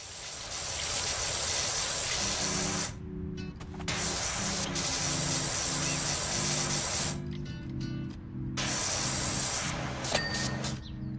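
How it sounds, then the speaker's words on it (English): Pressure washer spraying a lawnmower in the PowerWash Simulator video game: a loud, steady hissing jet that cuts off briefly twice and resumes, over a faint low hum from the game. "Probably not the best idea to pressure wash a lawnmower, but it's a game"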